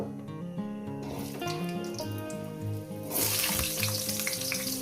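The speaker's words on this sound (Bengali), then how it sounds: "আলুগুলো দিয়ে সুন্দর করে লাল লাল করে ভেজে নেব" Potatoes frying in oil with dried chillies: a bright hissing sizzle that swells suddenly and grows louder partway through, over steady background music.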